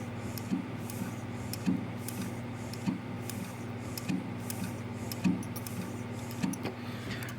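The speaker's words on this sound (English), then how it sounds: "You can kind of hear the noise that it makes from the switches." Pressure switches on an Armstrong furnace clicking as air is blown into the hose, six soft evenly spaced clicks over a steady motor hum, close by.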